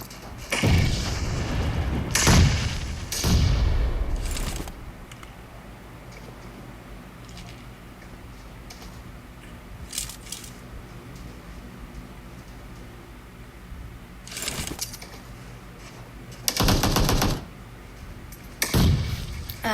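Gunfire and grenade blasts in the battle royale game PUBG during an esports scrim: loud bursts of shots and booms near the start, a quieter stretch of low rumble, then more sharp bursts toward the end.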